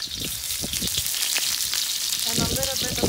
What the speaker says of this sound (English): First thing, we're gonna put a little bit of onion.